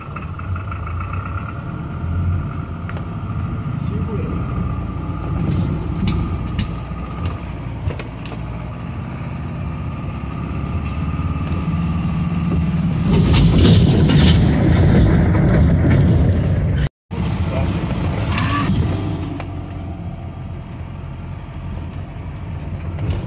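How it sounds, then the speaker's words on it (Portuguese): An off-road car grinds through a deep mud bog near Vargem do Cedro, São Martinho, engine laboring steadily throughout, with a louder churning, scraping surge midway and a brief dropout before the motor continues. "sobrevivemos ao atoleiro? Sim. Raspou todo o carro por baixo."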